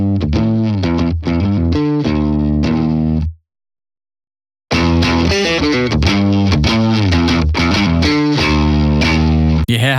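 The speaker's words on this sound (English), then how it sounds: "we have these two preamps, which are basically there to prepare the signal and give it a bit more life before it hits the amp" An electric guitar played through two preamps into an amp with a gritty, distorted tone, chugging riffs and sustained chords, cut by a short silence before the heavy riffing resumes.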